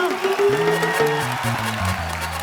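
A studio comedy-show audience applauds a guest's entrance, a steady wash of clapping that sits beneath loud stepped background music for the whole stretch.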